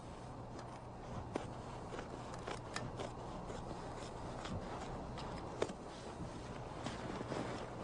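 Scissors snip steadily through ghillie-suit canvas lifted away from a flight suit, a quiet, close run of small irregular cuts and rustles with a few sharper clicks.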